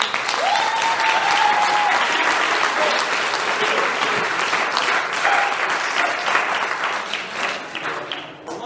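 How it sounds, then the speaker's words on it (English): Steady, dense applause from an audience at a school awards ceremony, honouring teachers, sustained and fairly loud throughout before tapering slightly at the end. "give a round of applause to all of our amazing teachers"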